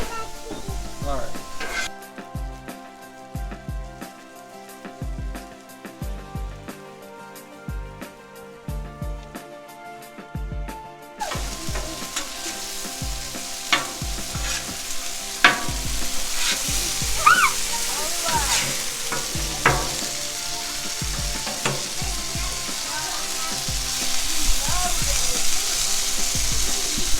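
Onions caramelizing in a pan for chicken stir-fried rice, a sizzle building steadily under rhythmic background music, with occasional stirring clicks and a voice talking.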